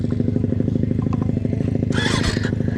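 A KTM 530 EXC motorcycle with rebuilt mechanicals idles after starting, its single-cylinder thump steady and loud up close, with a short burst of higher mechanical clatter or revving near the end.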